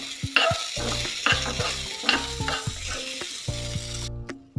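Drumstick fry is stirred and heated in a pan: close, loud clattering spoon scrapes come in a quick irregular series over a soft sizzle, ending with a final knock.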